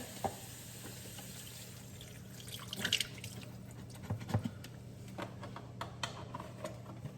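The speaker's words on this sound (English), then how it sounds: "let's go veggie stock again" Vegetable stock poured into a pan for a shrimp and grits sauce, heard as a soft continuous liquid trickle with scattered drips and small splashes, fairly close and quiet, with no talking.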